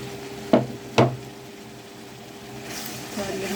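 Colored bell peppers dropped into a hot pan and stirred, two sharp clattering hits followed by a soft, steady sizzle.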